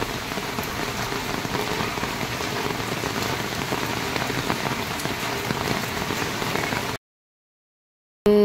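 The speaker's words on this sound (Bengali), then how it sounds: "যা বৃষ্টি শুরু হলো যাওয়ার সময় ক্লাসে।" Steady rain pours down hard and evenly for about seven seconds, a dense close hiss with no voices, before cutting to silence.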